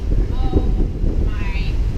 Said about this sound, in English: as soon as we entered, it got super windy, so we couldn't really talk